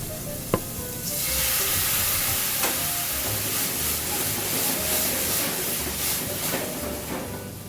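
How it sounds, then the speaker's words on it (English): Shallots, garlic and tomatoes sauté in a pan, a loud, continuous sizzle following a sharp clink, with stirring scrapes throughout and nobody speaking. "Let's continue to cook the shallots, garlic, and tomatoes together until they get a nice brownish color"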